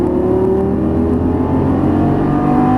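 A Lamborghini Gallardo Superleggera LP570-4 engine pulling under throttle on track, a loud, close, steady mechanical drone whose tone climbs slowly as the revs build.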